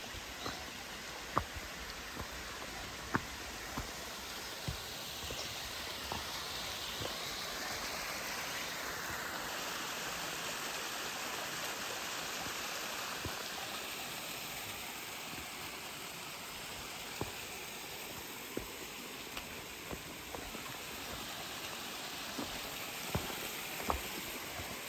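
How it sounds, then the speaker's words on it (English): Constant broadband rush of falling water, steady and fairly close, with scattered small clicks and knocks throughout. "And right up alongside the waterfall."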